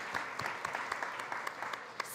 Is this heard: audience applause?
yes